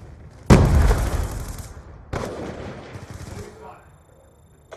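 A grenade goes off in a Black Ops 2 match: a sharp, loud blast is followed a moment later by a second burst of fire, and both trail off into a fading rumble.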